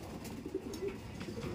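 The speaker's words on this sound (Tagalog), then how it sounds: "Yan o, napakagandang ibon." Pigeon cooing close by, low soft coos repeating steadily over a faint background, from a show-quality hen pigeon with pearl eyes of a Japanese SBR line.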